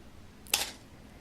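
A single sharp shutter release clicks on a Canon AE-1 film camera, one quick mechanical snap against a quiet room background.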